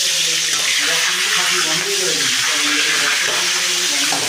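Rohu fish heads fry in hot oil, a loud, dense, continuous sizzle close by with some faint tonal murmur beneath it.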